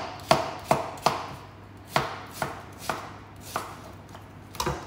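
A knife chops an onion into chunks on a cutting board, about ten crisp, evenly spaced thuds close up, with no talking.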